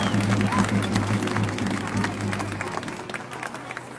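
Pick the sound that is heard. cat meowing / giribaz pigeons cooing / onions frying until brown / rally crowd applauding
rally crowd applauding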